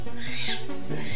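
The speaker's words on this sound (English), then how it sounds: "birds outside making a big ruckus." Birds calling outside, a busy cluster of overlapping chirps and hoots, loud and near, filling the moment with no speech.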